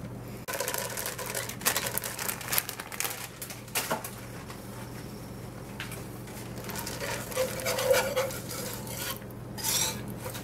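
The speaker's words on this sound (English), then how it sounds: "So I just start off with a little bit of chocolate and some of the butter. So I just kind of mix it around." Chocolate and butter are stirred over low heat in a pot for brownies, giving soft scraping and clinking of a utensil against the pot in an uneven rhythm, close by, with no talk.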